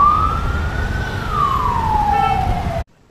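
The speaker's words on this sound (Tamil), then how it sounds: "அக்கம் பக்கம் ஆம்புலன்ஸ் வருது" A single ambulance siren wails loudly in one long tone that rises and then slowly falls, over steady city traffic rumble on a Bengaluru road, then cuts off abruptly.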